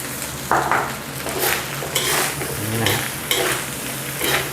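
Rice stir-fried in a pan with kale, onion and tomato for a homestyle Thai fried rice, with steady sizzling broken by several scraping stirs of a spatula against the pan.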